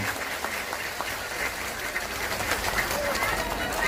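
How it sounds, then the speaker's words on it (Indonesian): Audience applause for Banser Taiwan at a religious gathering in Taiwan, moderate clapping from a crowd with voices and scattered noise underneath. "Sekali lagi tepuk tangan untuk Banser Taiwan."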